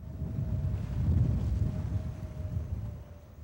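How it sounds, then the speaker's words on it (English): Wind buffets a fishing boat out on Lake Erie, a steady low rumble of gusts against the microphone with no speech, loud and continuous throughout. "The wind's blowing from the east, not the best for fishing"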